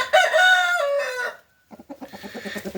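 A loud, drawn-out rooster-like call, then a brief pause and a run of short, rhythmic clucks from chickens close by.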